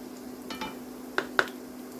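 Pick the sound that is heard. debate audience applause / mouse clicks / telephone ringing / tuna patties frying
tuna patties frying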